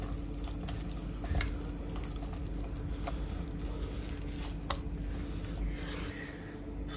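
Spoon stirring pomegranate seeds into a pomegranate-paste and chicken mixture in a frying pan for a Gilani dish, with a soft continuous sizzle and wet squishing, broken by a few faint scrapes and taps against the pan.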